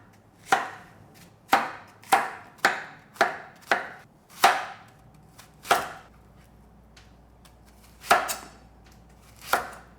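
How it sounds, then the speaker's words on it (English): A knife chops squash into big chunks on a cutting board, with about ten sharp, distinct thuds arriving in an uneven rhythm, close and clear against a quiet background with no voices. "I'm going to cut this in big chunks"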